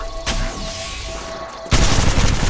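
Gunfire in the video game Apex Legends Mobile, a single sharp shot followed by a sustained loud burst of rapid automatic fire close by, no one speaking.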